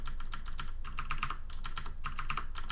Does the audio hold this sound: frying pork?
no